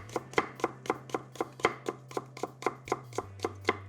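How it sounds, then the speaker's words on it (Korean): A knife julienning carrot on a cutting board makes about fourteen crisp, evenly spaced chops close up under a low steady hum, with no talking. "당근은 반 개 정도 채 썰어 준비하는데요. 칼로 썰으셔도 되고 채칼에 밀어서 준비하셔도 괜찮습니다"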